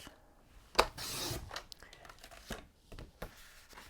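Paper for a scrapbook photo album is sliced with short rasping, rubbing strokes and a crisp tearing swipe. The sounds come close and fairly quiet, in a few separate bursts.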